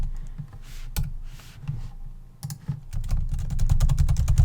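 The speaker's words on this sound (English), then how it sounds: "let's say I'm just randomly typing this in" Someone types randomly on a computer keyboard, starting with sparse, separate clicks and building into a fast, steady run of close, crisp key taps with no talking.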